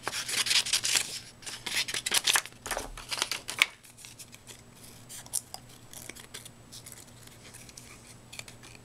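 Scissors cut out paper shapes for a fall candy-jar decoration, with close, crisp snipping strokes in quick bursts that give way to quieter rustling and paper handling, no talk.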